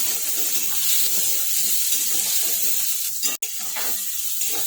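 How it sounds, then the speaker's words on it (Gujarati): Puffed rice (mamra) with salt and carrots roasts in a pan for a savory khichdi, giving a steady, close sizzling hiss with faint stirring and a brief dropout partway through. "થોડુંક મીઠું નાખીને એને શેકાવા દઈશું।"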